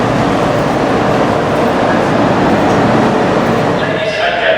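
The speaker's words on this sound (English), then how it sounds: "So there's a freight going round there." A freight oil train rolling past at a station, a steady loud rumble of wheels and wagons holding throughout, with faint voices in the background.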